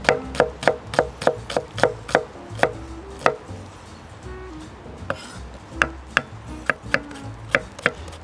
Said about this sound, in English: we're gonna start cutting the shallots. You wanna be cutting them in little pieces.